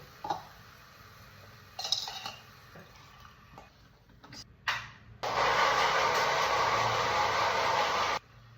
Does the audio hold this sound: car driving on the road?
no